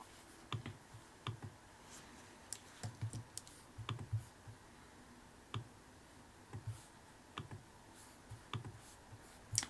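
Typing code on a computer keyboard, steady clusters of close, crisp key clicks in an uneven rhythm with short pauses between bursts, quiet and alone without talk.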